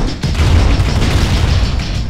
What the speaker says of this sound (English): this artillery is utter shit for dealing with tanks